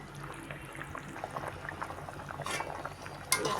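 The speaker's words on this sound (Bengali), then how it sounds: "শাহি গরম মশলাটা দিয়ে দেবো। খানিকটা ফুটবে, তারপর আবার নামিয়ে নেব।" A light Bengali curry of pabda fish with eggplant, seasoned with shahi garam masala, bubbles softly in a pot on the stove, with gentle continuous simmering and a few small pops rising near the end.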